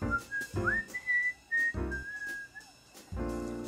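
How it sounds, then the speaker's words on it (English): A man whistles a short, lilting tune with sustained and sliding notes, close and clear, over gentle background music that starts and stops. "The man whistled to Oskar."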